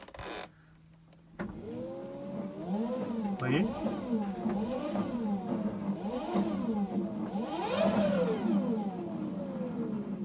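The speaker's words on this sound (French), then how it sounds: "J'ai refait tourner le moteur là et puis la moto fait moins de bruit." Zero S electric motorcycle running after a drive belt tension fix, a steady whine with wavering rising and falling pitch sweeps, moderately loud and close, with a person speaking briefly near the start.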